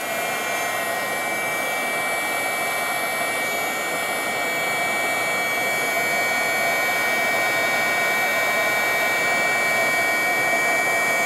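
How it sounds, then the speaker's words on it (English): A heat gun blows hot air over fusible webbing, a loud, steady roar with a thin high whine that holds constant through the whole stretch, with no voices. "I'm going to take my heat gun again, and I'm going to heat this up"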